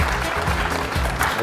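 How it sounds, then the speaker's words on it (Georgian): A studio audience applauds a contestant on a Georgian comedy competition show, a dense, loud burst of clapping lasting about a second and a half with some voices underneath. "აპლოდისმენტები."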